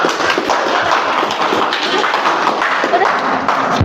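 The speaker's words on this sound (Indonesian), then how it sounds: "Ya, tepuk tangan buat kamu." Classroom clapping for a student who has just given a presentation, a steady, close patter of many hands that fills the whole stretch with only light voices underneath.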